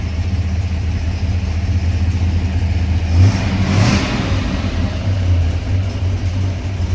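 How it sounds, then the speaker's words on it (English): A 1970 Ford Torino Cobra SCJ engine runs close by, a loud steady idle with a brief blip of revs midway, solid lifters adding a fine ticking texture to the low rumble. "You can really start to hear those solid lifters."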